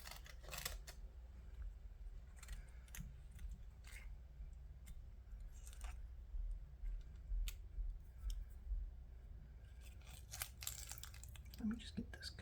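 Scissors snip at a slightly wet onion's roots in a crisp series of close, quiet cuts, spaced out over a hushed background with a faint voice in places.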